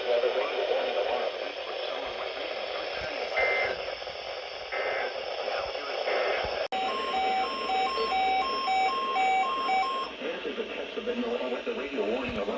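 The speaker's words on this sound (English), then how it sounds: "This ends the test of the National Weather Service weather radio warning alarm." A National Weather Service weather radio warning alarm sounds as a loud, steady high-pitched tone lasting about three seconds, cutting in sharply after a stretch of radio broadcast speech and then stopping.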